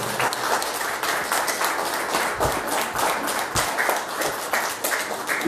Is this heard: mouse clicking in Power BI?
no